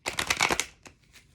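Tarot cards being shuffled by hand during a reading, a quick dense riffle of crisp papery flutter for about half a second, followed by a couple of softer taps as the deck settles, close and clear.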